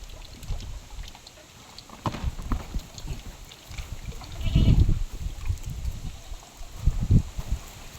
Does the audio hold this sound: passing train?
no